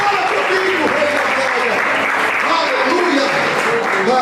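A church congregation claps steadily and loudly throughout, a dense continuous wash of applause from a large crowd, with a preacher's voice speaking over it.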